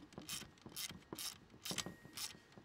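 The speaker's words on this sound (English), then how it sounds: "We take our socket and tighten those right up." Socket wrench ratcheting as bolts are tightened on an electric power pack assembly: about five quick, close clicking bursts in an uneven rhythm, fairly quiet, with no talk.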